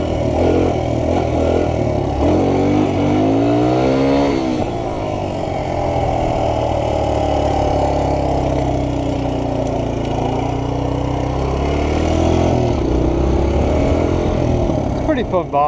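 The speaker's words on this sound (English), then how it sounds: "it's a 125 four stroke" A 125cc four-stroke motorbike engine runs loudly and close by, a continuous buzzing drone whose pitch rises and falls with the throttle, while people talk over it.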